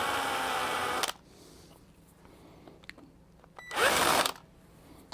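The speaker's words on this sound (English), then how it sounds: "I'm going to chamfer each one of these holes just a little bit" Power drill chamfering holes in a wooden woodturning tool handle, two short loud whirring bursts separated by a quieter pause with faint clicks.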